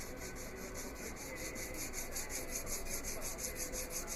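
Abrasive grinding along the straight ricasso edge of a stag-handled Bowie knife blade, held at a straight angle against a flat stick: a steady, continuous hissing rasp that stays close and even throughout, with no voices.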